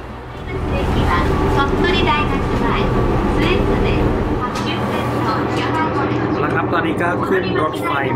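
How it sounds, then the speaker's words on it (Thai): Interior of a moving Japanese JR passenger train, a steady loud rumble of wheels and carriage noise running throughout, with a change in the rolling sound midway and people talking over it. "ขึ้นรถไฟมาแล้วนะครับ"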